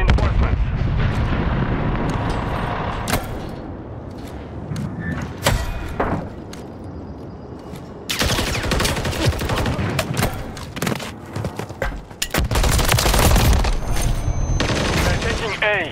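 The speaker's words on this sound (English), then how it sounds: "Friendly cruise missile deployed." A Call of Duty ranked match thunders with a cruise missile strike and heavy gunfire: loud rolling blasts, then dense bursts of rapid shots and sharp cracks crowding the second half.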